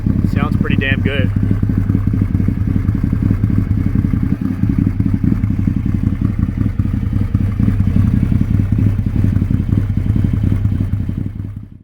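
A Ford Maverick engine idles through a homemade custom exhaust, producing a loud, steady, throbbing rumble close by for the whole stretch, with a brief rattle near the start.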